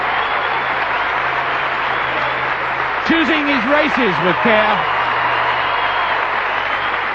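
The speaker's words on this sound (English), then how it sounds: "This applause is much deserved." Stadium crowd applauds Steve Ovett after his 1977 mile run, a national record of 3:54.8. The steady, broad roar holds for the whole stretch while a commentator talks over it.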